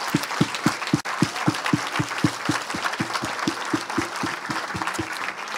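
A church congregation claps in unison to acclaim the Lord, giving a loud, regular beat of sharp hand claps at about three per second over a diffuse roomy wash.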